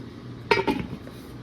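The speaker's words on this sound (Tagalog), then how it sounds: "Takpan ulit natin." A metal lid clanks down onto a cooking pot of simmering pork ears, two quick close clinks in a row against a quiet kitchen background.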